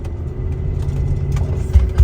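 A truck engine labors up a steep hill in Missouri, a steady close mid-range motor drone with a slight rise in effort toward the end, no talking.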